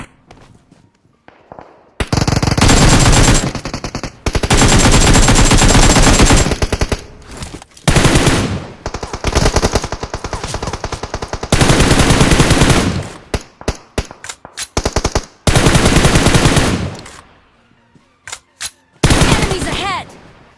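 AKM rifle fire in a shooter video game, loud rapid automatic bursts repeating in long strings with short gaps, close and dominant throughout.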